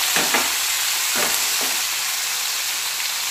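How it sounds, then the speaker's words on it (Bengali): Chopped onions frying in hot oil in a pan while making a vegetable curry with potato, paneer, okra and beans, a steady bright sizzle throughout with a few stirring scrapes near the start. "পেঁয়াজটা একটু ভেজে নেব।"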